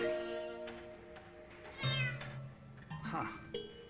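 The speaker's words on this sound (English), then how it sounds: "Black cat." A black cat meows a few times, the calls rising and falling with clear harmonic tones, heard up close over a quiet background.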